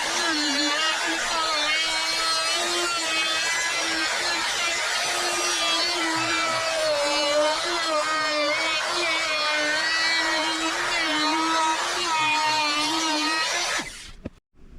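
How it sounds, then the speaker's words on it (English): A power sanding tool works down excess super glue on a taped, glued mount, a loud steady whir with wavering pitch running continuously for about fourteen seconds before cutting off abruptly at the end. "You just sand down."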